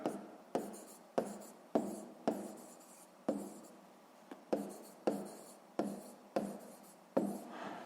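A pen writes on paper in a sixth-grade maths exercise, giving a run of about a dozen short, close scratchy strokes with brief pauses between them, with no talking.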